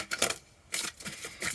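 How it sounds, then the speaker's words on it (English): Tarot cards shuffled by hand, giving quick papery riffling bursts that start, pause briefly and start again, close and fairly quiet. "One more shuffle."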